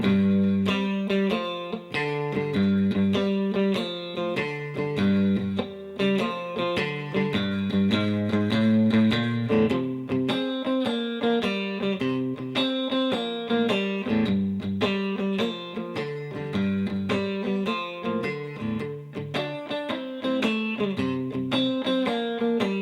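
Electric guitar plays a whole song slowly and note by note, clean picked lines with some effects and a steady unhurried rhythm, alone without any voices.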